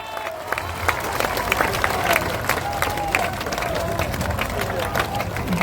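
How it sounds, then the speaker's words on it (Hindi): Audience applauding at the Jan Suraaj founding convention in Bihar, a dense sustained wash of clapping from a large crowd with a murmur of voices beneath. "जोरदार ताली बजाइए।"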